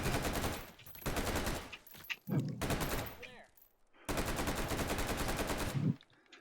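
An FN SCAR rifle fires in H3VR as rapid, dense bursts of gunfire in several long strings separated by short pauses, fairly quiet overall.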